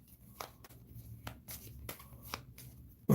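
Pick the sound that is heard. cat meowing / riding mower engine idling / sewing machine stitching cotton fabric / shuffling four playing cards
shuffling four playing cards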